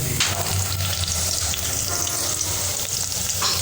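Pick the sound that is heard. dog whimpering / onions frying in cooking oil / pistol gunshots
onions frying in cooking oil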